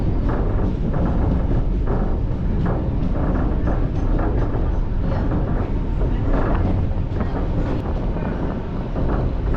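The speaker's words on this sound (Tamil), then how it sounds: "இப்போ ட்ரெயின் உள்ள என்ட்ரு ஆகிறது பழவந்தாங்கல்" A suburban train entering Pazhavanthangal station in Chennai rumbles and rattles steadily, loud and close, with wind buffeting the microphone throughout.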